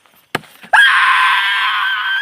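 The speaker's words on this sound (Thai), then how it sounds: "เสียงกรีดร้อง ดังมากเลย" A loud, sustained scream cuts in after a couple of sharp knocks and holds steadily at high pitch, piercing and close.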